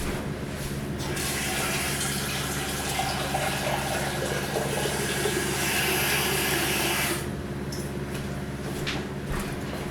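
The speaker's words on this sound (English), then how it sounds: "You need a pot like this, and I'll fill this up 3/4 full of water." Tap water runs steadily into a cooking pot for goulash, a continuous hissing gush that changes tone as the level rises, then stops near the end; no talking.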